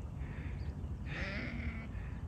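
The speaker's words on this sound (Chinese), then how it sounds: "绵羊在里面圈嘞" A sheep bleats once in a pen, with yaks kept outside the enclosure. The call is faint and somewhat distant, rising briefly over quiet low background noise.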